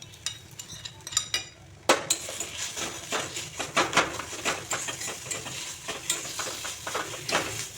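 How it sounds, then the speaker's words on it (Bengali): Fried onion and dried chilies being stirred into a taro leaf paste, with repeated close utensil scrapes and clacks against the pan in an uneven rhythm over a light sizzle; no speech. "এখন এতে আমি এই পেঁয়াজ ভাজা আর শুকনো লঙ্কাগুলো মিশিয়ে দিচ্ছি।"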